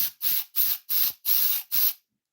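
A can of compressed air fires six quick, evenly spaced hissing bursts, close up and loud, while blowing out retro gaming gear from different angles; no voices.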